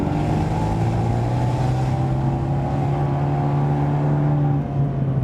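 A steady, loud engine drone from an Abarth 124 Spider with sport exhaust, holding sustained low harmonic tones from inside the car for several seconds with no talk.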